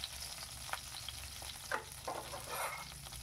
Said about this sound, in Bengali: ঘি দিয়ে এই ভেজিটেবলসগুলো ভাজলে খুব সুন্দর একটা ফ্লেভার আসবে